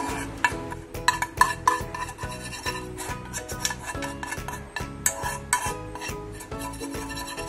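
Peanut powder stuffing for bharli bhendi, with gram flour and kokum, being mixed in a bowl: a continuous rhythmic rubbing and scraping with repeated strokes, close and fairly clear, with no talking.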